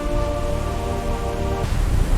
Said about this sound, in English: The first drops of rain began to fall.